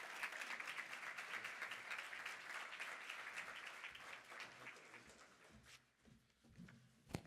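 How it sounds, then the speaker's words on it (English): An audience at a conference plenary session applauds with dense, continuous clapping that gradually thins out and fades over several seconds, heard from a distance. "Please give a round of applause for Mr."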